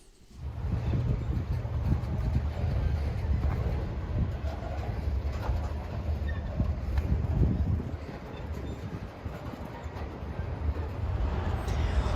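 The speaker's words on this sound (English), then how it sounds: "Seeing trains roll by it today is quite a sight." A steady, low rumble of a Norfolk Southern train rolling past, continuous and fairly close, with no voices over it.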